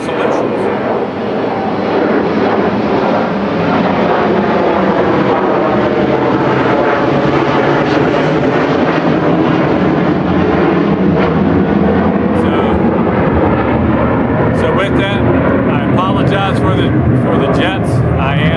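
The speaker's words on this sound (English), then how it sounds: "For the jets, I am in a flight path of Norfolk International Airport" A jet aircraft roars overhead on the flight path of Norfolk International Airport, a loud, continuous broadband rumble holding steady for the whole span and gradually shifting in pitch as it passes.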